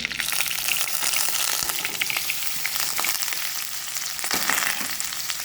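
Marinated soybeans poured into a hot pan, a steady loud sizzle and splashy frying hiss with a few scraping clatters near the end, continuous throughout with no talking.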